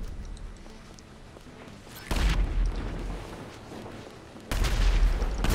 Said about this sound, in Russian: постоянно где-то выстрелы